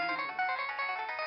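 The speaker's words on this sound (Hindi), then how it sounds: "ये किसका फोन बजा है?" A mobile phone ringtone rings on a TV show set, a bright electronic melody that repeats in quick, even pulses, loud and close with no voices over it.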